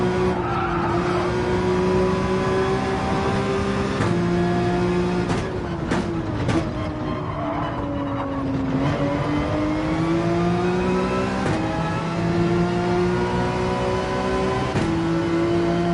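Race cars lapping in Gran Turismo 7 hold a loud, continuous engine drone with repeated gear-shift breaks and rising revs, plus a burst of tire skidding and squealing partway through, all without speech.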